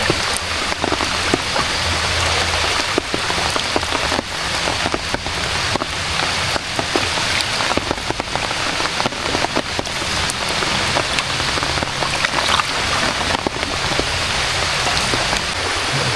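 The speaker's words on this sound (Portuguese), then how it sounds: "E a chuva continua." Heavy rain pours steadily onto a lake around a small fishing boat, a dense, continuous hiss of drops hitting water that stays loud and unbroken throughout with no talking.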